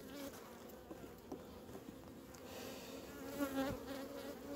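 Agitated honeybees hum steadily in and around an open hive during an autumn inspection, a dense, continuous buzz that swells slightly toward the end.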